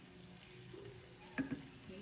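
Brinjal slices frying one by one in a hot pan, a soft, low sizzle with a couple of brief sharp taps as pieces go in, fairly quiet overall.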